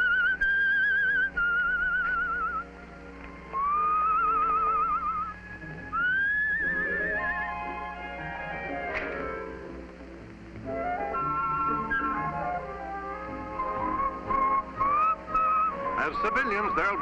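A man whistles a bright, wandering tune in a sailors' bar, the melodic phrases coming in repeated runs with brief pauses, over a low steady hum of background noise and some clatter toward the end.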